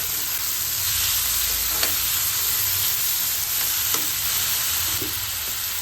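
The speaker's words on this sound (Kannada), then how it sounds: "ಟೊಮೆಟೊ ಹಾಕೋತಾ ಇದ್ದೀನಿ ನಾನು ಇವಾಗ. ಇದನ್ನು ಒಂದು 3 to 5 ಮಿನಿಟ್ಸ್ ಚೆನ್ನಾಗಿ ಸಾಫ್ಟ್ ಆಗೋ ಥರ ಫ್ರೈ ಮಾಡಿಕೊಂಡು" Tomatoes frying in a pan for capsicum curry give a loud, steady sizzle that runs through the whole stretch, with a few soft clicks as a spoon stirs them. No one speaks.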